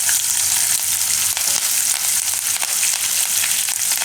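Green chillies and curry leaves fry in hot oil for corn upma, a dense, steady crackling sizzle close by with light stirring, no voices.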